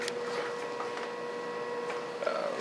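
A 101 Hero 3D printer moves through a print, its stepper motors giving a steady whirring hum with soft faint tones and small clicks, growing briefly louder near the end.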